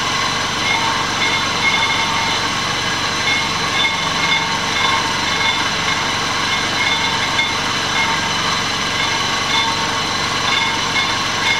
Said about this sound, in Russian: Неравномерное касание, то есть диск у нас бьет.